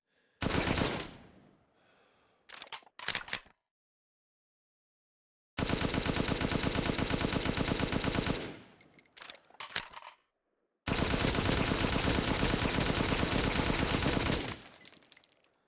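A Dragoon rifle in Resident Evil Village VR fires long, loud, fast bursts of automatic gunfire, with one short burst and then two sustained streams separated by dead silence, and no talking.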